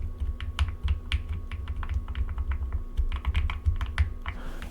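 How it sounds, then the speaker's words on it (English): Clicky keyboard typing in quick, uneven bursts of sharp keystrokes, close by over a faint steady hum. "I got a new keyboard, and I absolutely love it. Listen to it."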